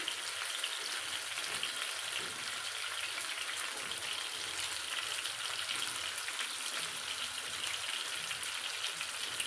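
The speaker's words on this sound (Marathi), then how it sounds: "टोमॅटो सॉफ्ट होईपर्यंत आपल्याला परतायचं आहे." Tomatoes sauté in a pan with an even, soft sizzling hiss that holds steady throughout, fairly quiet and close, with no voices.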